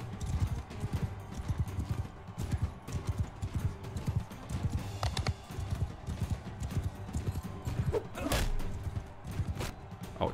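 Steady clip-clop of horse hooves trotting in Mount & Blade II: Bannerlord, in a regular rhythm, close and clear, with a brief louder burst near the end.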